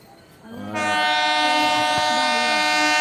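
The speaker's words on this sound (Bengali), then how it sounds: "এই মুহূর্তে দুটো লাইন দিয়ে দুটো গাড়ি আসছে" At a railway station, a train arriving on one of two lines sounds a loud sustained horn that swells in after a quiet start and holds steady, with low rumble from the tracks underneath.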